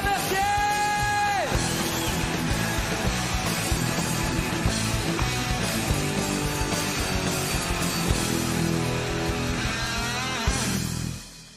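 A theatre audience whoops, yells and cheers loudly as a stand-up comedian comes on stage, a dense, sustained roar over music that cuts off at the end.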